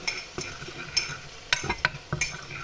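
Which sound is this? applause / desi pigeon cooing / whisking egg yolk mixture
whisking egg yolk mixture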